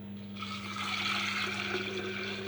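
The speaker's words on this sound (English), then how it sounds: "fill it up with water," Tap water runs steadily into a glass jar holding 45 grams of sunflower seeds, a continuous close hiss and gurgle with a low hum underneath, no talk.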